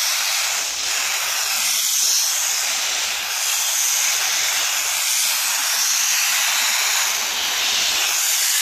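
A steady, loud hiss of a pressurized sprayer spraying soapy water on a horse, running continuously, with slight swells in intensity and no voices.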